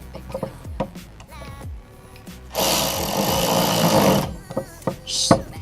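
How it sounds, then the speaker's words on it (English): A power tool tightens down hose clamps during a fire extinguisher quick-release install, a loud buzzing whir lasting a couple of seconds among clicks, clatter and a voice talking. "all you have to do is just tighten down the hose clamps."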